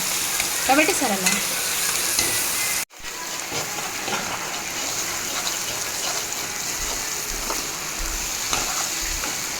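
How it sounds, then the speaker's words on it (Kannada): Beans tipped into a hot frying pan and stirred, a steady sizzle and frying hiss with scraping stir strokes, a brief dropout partway through, then continuous close sizzling. "ಬೀನ್ಸ್ ಹಾಕಿಕೊಳ್ತಾ ಇದ್ದೇನೆ. ಅದನ್ನು ಚೆಂದ ಮಾಡಿ ಮಿಕ್ಸ್ ಮಾಡಬೇಕು."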